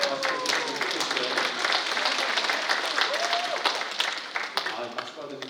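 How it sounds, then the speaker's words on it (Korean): Congregation clapping after Sunday Mass at a church, a steady dense roll of many hands that fills the whole stretch, with a voice speaking over it. "박수 주시면 좋겠어요"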